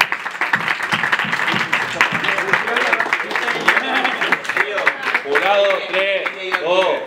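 Crowd applause and cheering at a rap battle, a busy mix of clapping, shouts and overlapping voices, fairly loud and close throughout.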